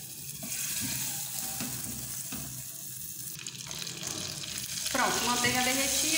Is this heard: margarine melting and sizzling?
yes